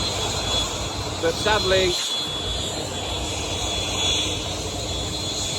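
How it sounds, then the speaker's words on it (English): A jet dryer works over a wet drag racing track at Santa Pod, making a continuous broad jet-engine roar some distance off. Someone talks over it. "they are trying to dry the track, jet dryer over there"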